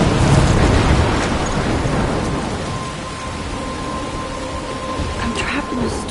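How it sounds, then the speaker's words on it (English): A thunderstorm in the video game Life is Strange, with a loud rumble of thunder up front that fades into continuous heavy rain. "I'm trapped in a storm?"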